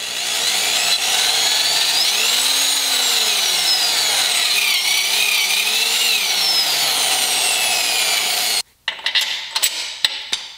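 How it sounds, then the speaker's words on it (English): A power drill fitted with a 7/16 drill bit bores out a hole in an AX-15 conversion linkage part, a steady grinding whine that holds for about eight seconds before breaking into a few short bursts. "this is the only drill I have that can handle it"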